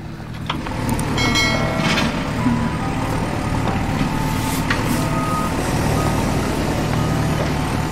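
A toy roller vehicle sounds its reversing beeper while being pushed through play sand outdoors, a run of short evenly spaced beeps over a steady background hum, with no talking.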